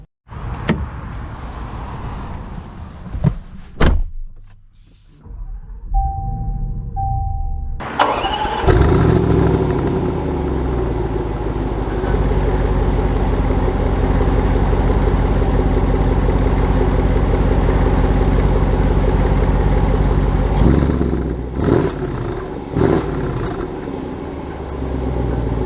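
A 2022 Range Rover Sport SVR is unlocked and its door shuts, then the engine fires with a loud rising revving and settles into a strong, steady idle and drive, close and without any talk.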